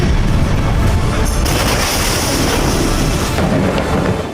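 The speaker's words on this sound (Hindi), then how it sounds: "पाँच, 4, 3, 2, 1, 0 और दुनिया दहलाने वाला महाधमाका" A massive explosion in Lebanon roars as a sustained, loud, dense rumble with a sharper surge partway through, filling the whole clip with no voices.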